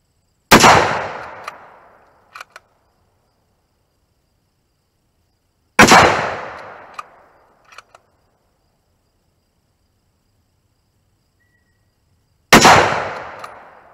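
Three sharp rifle shots from a Tikka T3 or Howa 1500 are fired several seconds apart at an outdoor range, each a loud crack with a decaying echo, followed by faint metallic clicks of the bolt.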